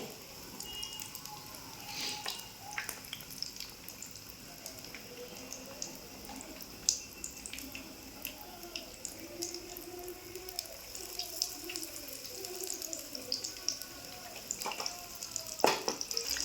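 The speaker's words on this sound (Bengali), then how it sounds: "ডুবো তেলে ভাজতে হবে।" Stuffed flat bean pods deep-fry in oil with a soft, continuous sizzle and scattered crackles and pops, fairly quiet and steady throughout.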